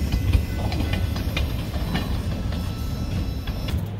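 A freight train hauling pulpwood rolls past a road crossing, its steady rumble and rhythmic clickety-clack of wagons continuous and fairly close throughout, with no voices.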